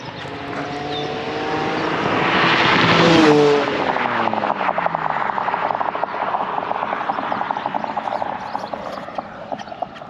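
A BMW M3 with a new exhaust approaches with a swelling roar, passes close by, and fades into a steady rumble with rough road noise as it drives off.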